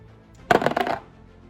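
Dice rattle and clatter briefly on a table during a Heroquest board game, a quick burst of plastic clicks lasting about half a second, close and alone.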